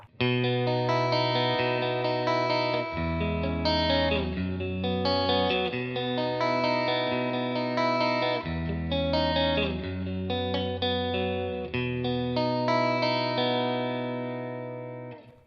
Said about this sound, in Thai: โมเดลที่ผมใช้เมื่อกี้เนาะก็จะเป็น Fender Twin Reverb นะครับแล้วก็มีการออนตัว Reverb ที่เป็นแบบ Spring ไว้นะครับ